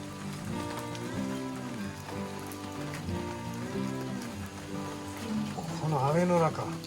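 Rain falls steadily through a garden campfire scene, a soft continuous patter on surfaces, while people talk over it throughout and a voice rises briefly near the end.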